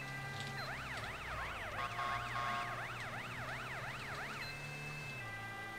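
A police car siren in the video game GTA wails in a rapid, steady up-and-down pattern, loud and close. A low engine hum runs underneath, and no one talks over it.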